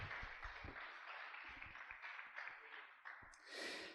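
A church congregation applauding, steady dense clapping that runs throughout and swells near the end, with a few low thumps mixed in.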